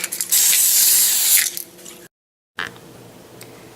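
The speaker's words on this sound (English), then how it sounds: "Spray your 9 by 13 inch baking dish with cooking spray." A close, steady hiss of aerosol cooking spray into a 9 by 13 inch baking dish lasting over a second, then a short silence and a quieter second burst.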